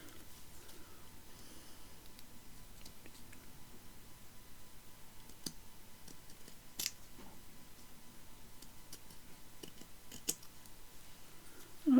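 Quiet, scattered snips and clicks of scissors cutting paper, a few sharper cuts standing out against a faint background hum, with no talking.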